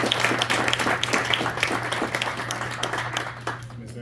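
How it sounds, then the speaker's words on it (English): Applause from an audience at a school district board meeting, a sustained burst of many hands clapping at steady loudness, thinning slightly toward the end. "Let's give a big round of applause to Ms."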